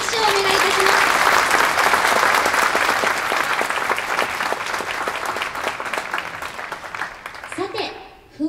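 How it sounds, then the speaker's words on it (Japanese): Sustained applause from a live concert audience at a police band performance, dense and steady for several seconds before thinning into scattered claps; a few voices and faint tonal sounds emerge near the end. "末広隊員にもう一度拍手をお願いいたします。"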